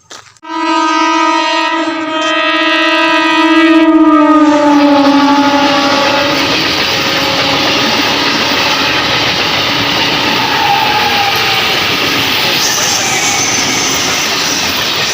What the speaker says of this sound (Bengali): সো দেখতেই পেলে এক্ষুনি ট্রেনটা চলে গেল।